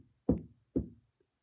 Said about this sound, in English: Quillerin knocked on the door.